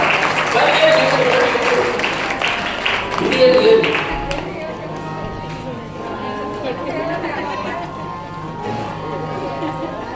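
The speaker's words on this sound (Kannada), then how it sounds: "ಜೋರಾಗಿ ಚಪ್ಪಾಳೆ ತಟ್ಟುವುದರ ಮುಖಾಂತರ" Audience clapping loudly at a religious gathering to welcome an arriving swamiji, a dense burst of applause that gradually thins and fades, heard under someone speaking over a loudspeaker.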